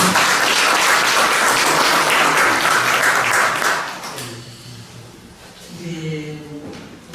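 Audience applause in a hall at a literary doctoral student colloquium, a dense, loud wash of many hands clapping for about four seconds, then fading out as a voice begins speaking.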